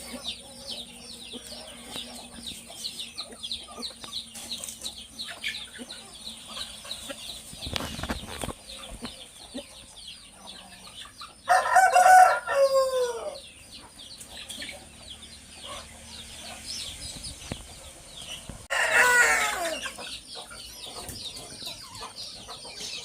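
Aseel chickens on a Kerala farm, with soft intermittent clucking and rustling throughout and two louder bursts of crowing or squawking from a nearby bird, one in the middle and one near the end.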